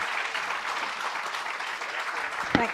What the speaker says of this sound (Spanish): les despedimos con un fuerte aplauso